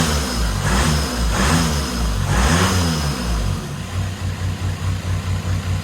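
A car engine that had been blown and repaired idles steadily close by, starting with a few revving swells and settling into a loud, even pulsing rhythm with no talk.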